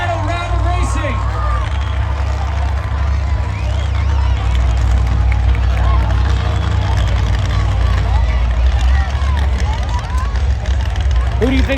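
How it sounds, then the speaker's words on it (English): A loud crowd roars and cheers continuously at a monster truck racing finals event, the dense babble of voices and shouts sustained throughout amid engine rumble, with an announcer talking over it. "So let's make some noise, get some flags up."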